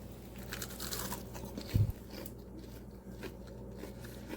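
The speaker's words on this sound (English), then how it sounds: "do you hear that crunchiness?" A single loud crunchy bite into fried chicken schnitzel lands, followed by quieter crackling chewing, close up with no talking.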